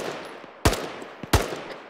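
Two sharp, loud gunshots about half a second apart in a military video game, with a faint shot between them over a low background hiss.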